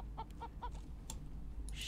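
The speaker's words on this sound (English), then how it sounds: "we caught ourselves a chicken" A chicken in the survival video game Raft clucks a few times in quick, short bursts, quiet and close, over a low steady background hum.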